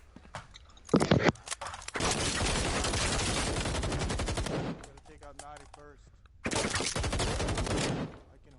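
Bursts of automatic gunfire ring down a hallway in a competitive multiplayer shooter match, with a short burst followed by long sustained firing, a lull, then another loud sustained volley.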